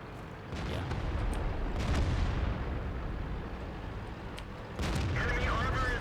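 Tank cannon fire in World of Tanks: heavy booming blasts with rumbling battle noise, a big shot early and another burst near the end, over continuous engine and combat din.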